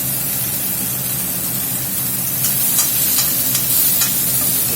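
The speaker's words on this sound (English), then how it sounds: "Get that beef browned up" Beef browning in a hot pan for a Mexican red chili, a steady broadband sizzle with faint stirring, growing slightly louder partway through, no voices.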